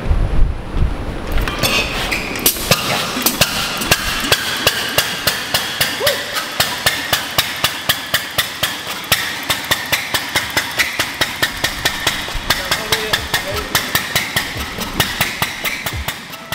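Vintage car engine cranking and catching, then running at a steady idle with a rapid, regular mechanical tapping rhythm, close and loud throughout.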